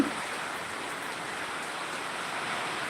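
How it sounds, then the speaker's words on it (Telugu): Heavy rain in Anantapur district pours down as a steady, dense, even wash of noise, with no distinct drops standing out, unbroken for three seconds. "వర్షం అయితే ఇంకా కంటిన్యూ వస్తుందండి"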